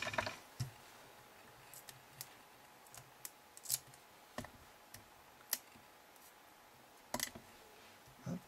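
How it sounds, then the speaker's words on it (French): Scissors snip through craft foam, cutting it in half, with quiet, irregular crisp clicks and snips spread out, a couple in quick pairs, close by with no talking. "Donc je coupe une mousse en deux."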